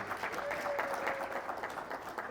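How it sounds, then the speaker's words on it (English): Applause from a real estate convention audience honoring the panelists, a steady dense patter of many hands clapping at moderate distance, continuous throughout. "A round of applause again for our panelists on that answer"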